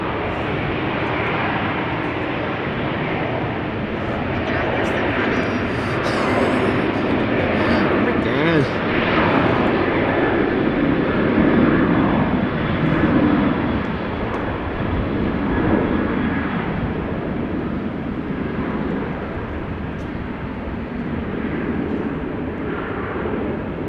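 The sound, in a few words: airplane at Amsterdam Schiphol Airport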